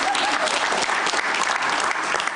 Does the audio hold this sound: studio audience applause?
yes